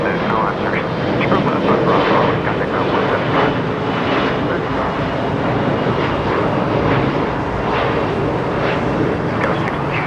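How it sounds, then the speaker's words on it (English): A Boeing 777 airliner taxiing at Los Angeles International Airport, its jet engines giving a steady, loud broadband roar that holds throughout, with a voice talking over it. "let's take a look at the 777 right now, taxiing south on Alpha Alpha."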